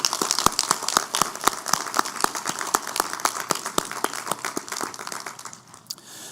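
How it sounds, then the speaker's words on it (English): Clapping for graduates at a morning graduation ceremony, a run of sharp, evenly spaced claps over a soft crowd bed, steady for several seconds before thinning out near the end. "Let's give them a round of applause."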